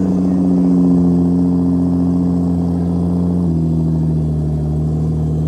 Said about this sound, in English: Got the Countach rolling out.